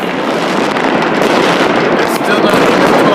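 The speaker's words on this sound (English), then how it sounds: "But there are fireworks everywhere. It's insane." Fireworks exploding all over a city at Chinese New Year, heard from a 32nd-floor view: a loud, continuous wall of crackling bursts and rumbling booms with no break, like a distant barrage.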